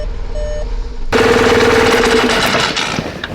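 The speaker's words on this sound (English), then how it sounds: "The car starts" A project car's engine cranks and catches, shifting from a quiet electrical whine into a loud, rough, rattling idle that holds steady, then eases slightly; no talk.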